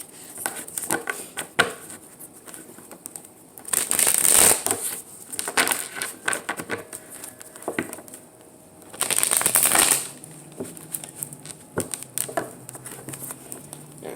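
Tarot cards being shuffled by hand, crisp riffling bursts around two spaced moments amid softer scattered taps and card handling, close and fairly quiet, no speech.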